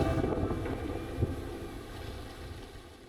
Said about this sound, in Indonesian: Angin sepoi-sepoi membawa aroma khas laut, sementara suasana ombak menjadi latar alami yang menenangkan.